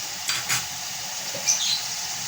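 Chicken and potato pieces fry in a large pan with a steady, moderate sizzle, broken by a few brief scraping stirs of a utensil against the pan.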